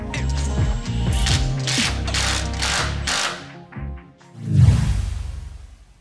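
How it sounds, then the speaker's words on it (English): A ratchet undoing a bolt on a gearbox flange of a Land Rover Discovery 2 TD5, several close, loud bursts of rapid clicking, followed by a pause and a final metallic clunk. "Then there's just a little bolt to undo, and use the same bolt with the new flange to put it back in."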